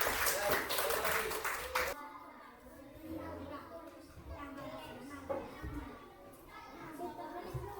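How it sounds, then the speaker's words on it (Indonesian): Schoolchildren in a classroom clap together in a quick, loud burst that stops abruptly, followed by children's voices chattering and a teacher talking. "Oke, tepuk tangan dulu."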